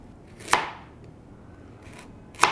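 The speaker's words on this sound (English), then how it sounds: "I want to use this to cut little sakura, so like little thick slices." A knife slices through a thick ingredient into small sakura-shaped pieces, giving two crisp cutting thunks against a board about two seconds apart, close and clear over quiet surroundings.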